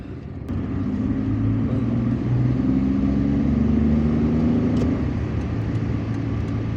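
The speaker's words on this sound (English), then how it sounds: "I'm going to drive underneath it." A car drives beneath the Martyrs Memorial esplanade, a steady, loud engine and road rumble holding throughout, with a low hum that rises slightly in pitch mid-way, suggesting light acceleration.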